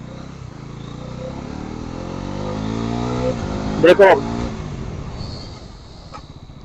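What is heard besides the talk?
Bajaj Pulsar NS400 motorcycle revving for a stoppie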